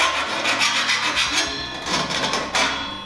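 A hand file or deburring tool rasps along the cut edge of 4 mm cable tray at a 90 degree bend, a steady run of close, loud scraping strokes with a brief pause and a fresh stroke near the end.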